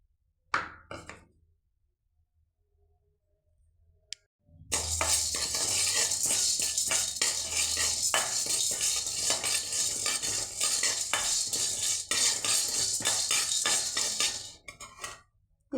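Dry chana dal is tipped into a metal pan and stirred with a spoon, giving a steady rattling scrape with clinks of the utensil against the pan that runs for about ten seconds after a quiet pause.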